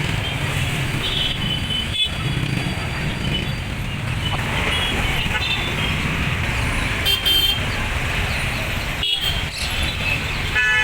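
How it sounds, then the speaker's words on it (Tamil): Heavy road traffic during Dasara festivities in Mysore, India, rumbles steadily and close, with engines droning and several car horns tooting in short bursts near the start and later on. "சரியான டிராஃபிக்குங்க."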